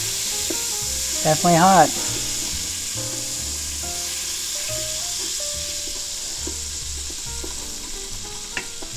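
Butter sizzles in a hot Instant Pot while browned bits from a pot roast are scraped loose, a steady close hiss running throughout with a brief spoken remark early on.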